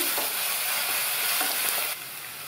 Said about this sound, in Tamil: அது கூட 1 டீஸ்பூன் இஞ்சி பூண்டு பேஸ்ட்டு, 2 கீரின பச்சை மிளகாவையும் சேர்த்து வதக்கிக்கணும்.